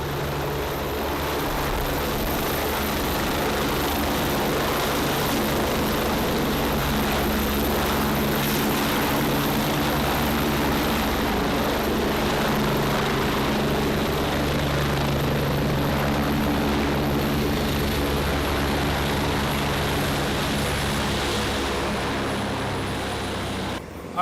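Leonardo AW109 Power helicopter arriving at a red-carpet aviation event, a loud, continuous rotor and turbine roar that holds steady and close throughout, with no voices.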